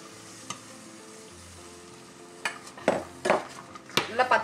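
Soaked chickpeas are stirred into a sizzling chana masala gravy in a pan, a steady frying hiss broken by several scraping spoon strokes and clinks in the last couple of seconds.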